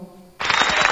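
After a brief near-silent moment, a burst of applause suddenly begins from a V998 karaoke soundcard effect, dense clapping that stays loud and steady to the end.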